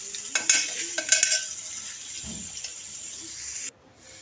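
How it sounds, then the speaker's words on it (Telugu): Bottle gourd pieces fry in oil with a bright, continuous sizzle and some early clatters of stirring in the pan. The hiss runs steadily, then cuts off abruptly near the end. "అలాగే చూడకాయ ముక్కలు కూడా బాగా నూనెలో ఉడికించాలి"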